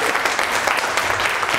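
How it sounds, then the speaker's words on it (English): An audience at a lecture in Leicester gives a loud round of applause, a dense, continuous burst of many hands clapping close by for the short duration. "Big round of applause."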